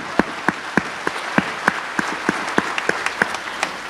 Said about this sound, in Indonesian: Tepuk tangan dulu yang meriah Bapak Ibu.